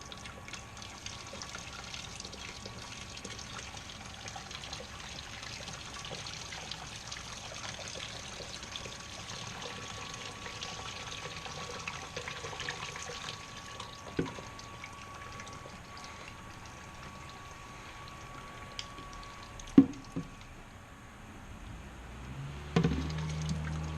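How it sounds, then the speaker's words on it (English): A faint, steady trickle of wort being poured back to recirculate during all-grain brewing, continuous and low in level, with a couple of small knocks near the end. "we're gonna pour this back, recirculate here."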